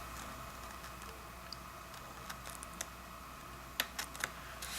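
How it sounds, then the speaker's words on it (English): Small scissors snip paper in a planner with a few quiet, sharp clicks and crisp cuts, clustered near the end against a faint, still background. "I'm just gonna cut again with my little scissors."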